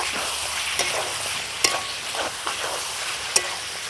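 Chicken pieces sizzling in a covered pan, a steady close frying hiss with a few sharp clicks from stirring or the lid, no voices.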